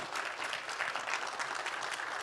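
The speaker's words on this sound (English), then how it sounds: "A big round of applause to all of our panelists" A conference audience applauds panelists after a prostate cancer discussion, giving dense, steady clapping that fills the hall at a moderate distance, with no voices over it.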